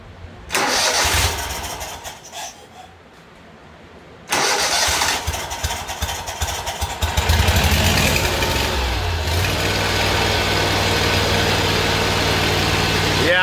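A Kohler Command Pro 25 engine on a Great Dane zero-turn mower is cranked and fires, first a short burst and a pause, then a steady loud rough run that settles into a continuous idle, with no talking.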